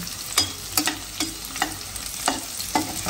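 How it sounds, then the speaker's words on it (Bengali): Rice stir-fried in a pan with egg, a quiet sizzle broken by about eight regular scraping strokes of a spatula, close and without talk. "তাই বললাম যে ভাত ভাজা দেবো"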